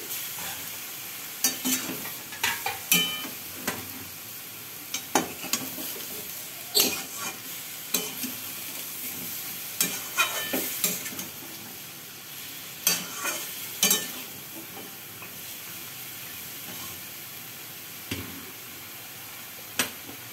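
Tomato frying with drumstick vegetable curry in a pan, a steady soft sizzle broken by repeated sharp scraping stirs and clinks of a spatula, close and without speech.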